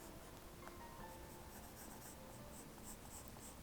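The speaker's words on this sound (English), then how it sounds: "then we've got to draw the hat, which is just a curved line across there" A pencil sketches a curved line for a snowman's hat on paper, a faint, steady scratchy drawing sound that runs without a break and with no talking.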